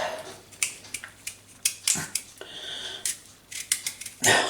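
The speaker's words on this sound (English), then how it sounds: "So I've got some swede, which is normally pretty tough nowadays to peel, but it's easy to do and quick." Knife cutting and peeling a tough swede up close, a string of short crisp scraping and slicing strokes in uneven rhythm with a louder crunch at the end, no voices.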